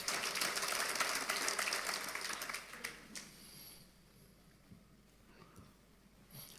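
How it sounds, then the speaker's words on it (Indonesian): A church congregation applauds at a sermon, a dense wash of clapping that fades away after about three seconds into quiet room tone. "saudara boleh tepuk tangan untuk kebenaran ini."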